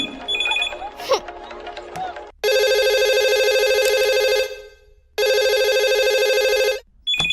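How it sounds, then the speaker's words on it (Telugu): A telephone rings loudly in two long electronic bursts with a pause between them, preceded by some brief scattered noise and a clipped start of a third ring at the end. "అరే జల్దీ ఫోన్ ఎత్తండి రా బాయ్, నాకు టెన్షన్ అవుతుంది ఈడ."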